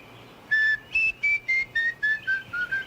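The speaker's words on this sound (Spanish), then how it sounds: "A ver, silba." A man whistles a short tune of about nine clear, distinct notes, each held briefly with small gaps, close and alone in a quiet room.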